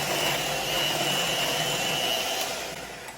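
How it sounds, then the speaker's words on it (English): A Cuisinart electric mixer whirs steadily as it beats sweet potato pie filling until creamy, a close, continuous high motor whine that tapers slightly near the end, with no talk over it. "using my Cuisinart electric mixer, I'm just gonna kind of give that"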